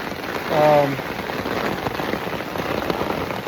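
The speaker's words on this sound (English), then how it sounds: "Just a torrential downpour." Torrential rain pours down steadily on a wet night along the Appalachian Trail, a dense, even hiss of a heavy downpour with a brief low rumble early on.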